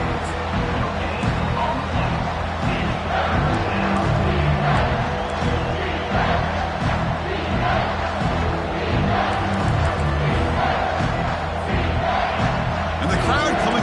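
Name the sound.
football stadium crowd cheering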